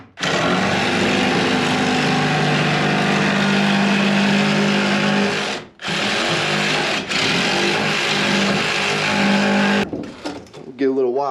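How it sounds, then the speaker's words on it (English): A Sawzall reciprocating saw cuts along the edge of an opening in a custom modern shed, loud and close with a harsh buzzing rasp running almost continuously, one brief stop in the middle, then sputtering to a halt near the end. "I just come in with my Sawzall and just follow this edge"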